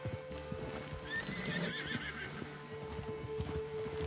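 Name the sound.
horse neighing and trotting in Red Dead Redemption 2 video game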